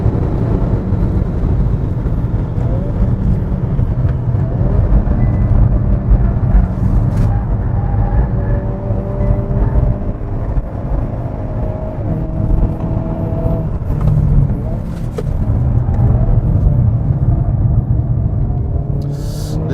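A Hyundai N car, Avante N or Kona N, drives a time attack lap, its engine a steady loud rumble and whir close by with slight rises in revs throughout.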